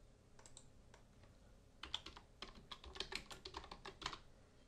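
Someone types a search on a computer keyboard, a few sparse clicks and then a fast run of close, crisp keystrokes ending in a firmer press of the enter key.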